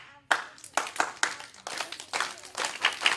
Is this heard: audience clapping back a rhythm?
yes